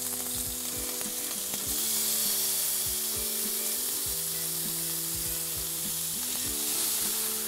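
Balsamic Dijon marinated chicken breasts sizzle steadily on a preheated gas grill at medium-high heat, a close, continuous searing hiss with faint scraping and knocks.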